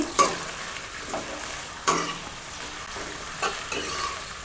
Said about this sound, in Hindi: अब मैं प्याज जल्दी जल्दी फ्राई कर लूँगी